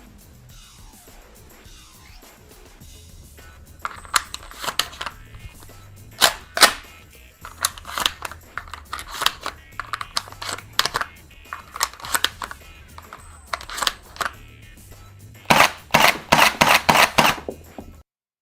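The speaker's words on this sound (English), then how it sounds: "Back shell ejecting Nerf AEB based on the Beretta 1301." A shell-ejecting Nerf blaster modeled on the Beretta 1301 fires in a series of sharp, close snaps and clacks, some spaced apart and a fast cluster near the end, alone without speech.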